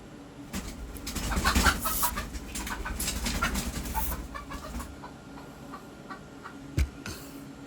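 A chicken clucks and scratches just outside a house on a ranch, trying to get in. The bursts of clucking and pecking are fairly close and irregular, with a sharp knock near the end and no talk.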